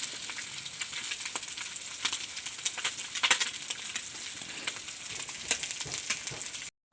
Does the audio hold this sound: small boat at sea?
no